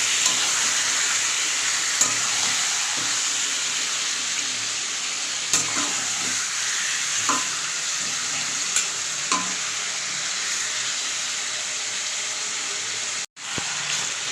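About a kilogram of chicken stirred and fried in hot oil, a dense, steady hiss of sizzling with periodic scrapes and clinks of a spatula, heard up close without speech and cutting out briefly near the end.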